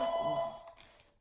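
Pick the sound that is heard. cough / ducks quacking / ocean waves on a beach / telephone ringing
telephone ringing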